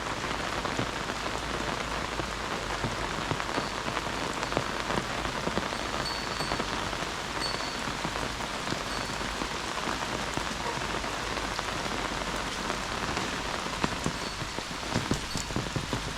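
Heavy rain pours steadily onto a garden, a dense, loud, unbroken hiss of drops striking leaves and ground, with no voices over it.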